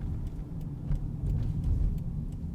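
A car driving down a road in Norwich, Connecticut, heading toward the Howard T. Brown Memorial Park area on a smoky day, a steady low rumble of engine and tyres with no voices.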